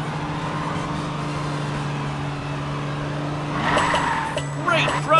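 A cartoon car drives along a racing track in PJ Masks Hero Academy, producing a steady engine drone that rises briefly toward the end, with game chimes and effects layered over it.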